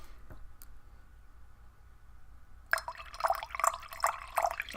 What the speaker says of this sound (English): I'm gonna pour the water in front of the mic.